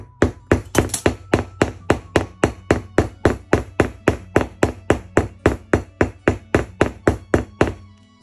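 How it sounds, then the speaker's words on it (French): A mallet taps a leather setting tool to fit an eyelet in leather, about two dozen quick, evenly spaced sharp knocks in a steady rhythm, close and clear with no talking. "Prenez votre maillet et venez frapper avec de petites frappes successives."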